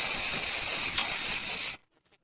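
Water with fresh tea leaves boils on a wood stove in a hollow-log survival shelter, giving a loud, steady steaming hiss with a high whistling tone that cuts off abruptly.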